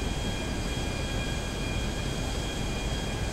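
Airplane in GTA V flying over a military base, a loud continuous engine drone with a steady whine that holds at an even level with no other sounds.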